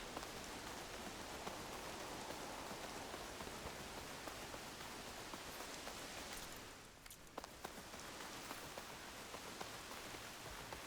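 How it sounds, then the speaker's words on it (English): Heavy rain in the video game Horizon Forbidden West, a steady, dense hiss of falling water with scattered drop impacts, dipping briefly midway, no voices. "Clouds were heavy with this rain."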